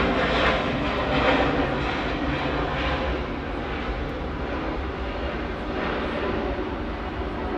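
A Boeing airliner arriving at Atlanta airport sends a steady, loud, continuous engine roar across the whole stretch, with no talk over it.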